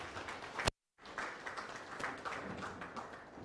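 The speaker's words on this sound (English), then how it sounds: "May we give her a hand clap?" Applause at an alumni dinner and expo, a moderate spread of hands clapping from the audience, broken by a short silent gap before resuming steadily.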